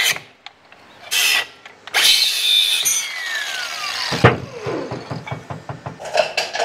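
A power tool cuts along the edge of a metal panel on a handmade custom Chevy crew cab firewall, with loud bursts of grinding and a rising-falling whine, then short rhythmic cutting strokes.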